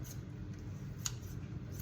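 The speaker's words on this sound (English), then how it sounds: "you could use like a little kitchen scissors and sort of just cut them into smaller pieces" Kitchen scissors snipping chicken into bite-sized pieces, a few faint crisp snips spaced about half a second apart over low background noise.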